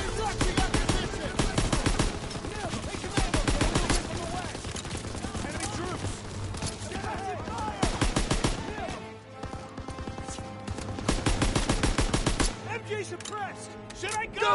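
Dense, rapid machine gun fire in the Call of Duty WWII video game, near-continuous bursts of loud staccato shots with brief pauses, layered with battle noise and soldiers' shouted voices throughout.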